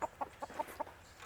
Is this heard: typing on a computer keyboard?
no